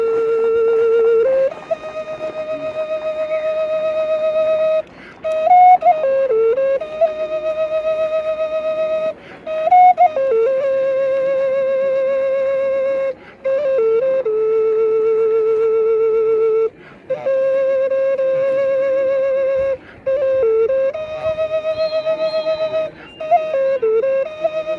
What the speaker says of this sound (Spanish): Es un instrumento que es una ocarina